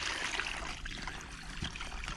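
Water from a French drain discharge runs into a catch basin, a faint steady trickle and splash with low rumble, heard close and alone.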